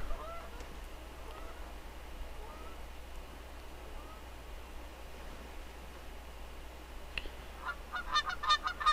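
Distant Canada geese honk in scattered calls over steady wind noise, growing into a louder cluster of honks near the end.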